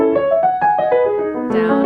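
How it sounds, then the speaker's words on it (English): A piano pedaled every half bar plays flowing broken-chord notes that blend and sustain in short stretches, then swell into a fuller, ringing chord near the end. "And if I pedal like every half bar or something, it sounds like this."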